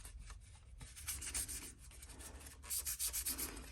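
Sandpaper rubbing over a 1/24 scale Aoshima Range Rover model body before priming, a quiet close scratchy scrubbing in uneven back-and-forth strokes with short pauses, with no voices.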